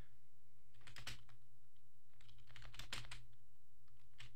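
Someone types on a computer keyboard while chatting in Roblox, with short clustered bursts of quick key clicks separated by pauses over a low background hum.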